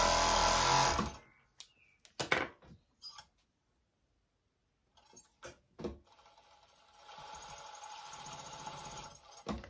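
A sewing machine stitches fabric in short, separate bursts of mechanical whirring broken by pauses, then settles into a steadier run toward the end. The sound is close and moderately loud, with no talking.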